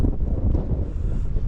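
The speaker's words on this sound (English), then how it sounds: "Quite windy this morning," Strong wind at Alcock Tarn above Grasmere in the Lake District buffets the microphone with a constant low roar and gusty rumble throughout, no voices heard.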